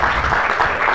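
Audience applause closing a conference session at LACIGF 2019: a brief, steady wash of clapping from a seated crowd, fairly loud and even for about a second.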